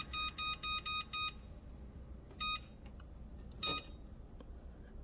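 A kitchen timer emits a quick series of five short electronic beeps, then two more single beeps after pauses, faint over a low room hum.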